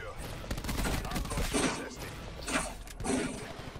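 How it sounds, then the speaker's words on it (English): Gunfire rattles in Call of Duty Black Ops 4 during an online Hardpoint league match, with dense, continuous automatic bursts and a few sharper louder volleys over a steady game background. "Still getting shot at."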